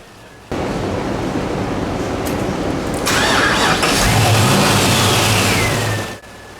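A twin turbo GTO engine revving hard on a dyno, starting abruptly into a loud broad roar that climbs and intensifies midway, holds at full load, then cuts off sharply near the end.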